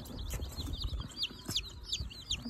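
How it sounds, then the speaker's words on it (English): Young white Leghorn chicks give shrill, rapid cheeps that overlap in a busy, close chorus, with soft shuffling and low bumps beneath them. "we got about 25 healthy chicks"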